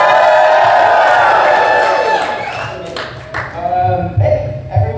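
Convention panel audience cheering and clapping, a dense roar of crowd noise with whoops and applause that swells and fades while voices speak over it.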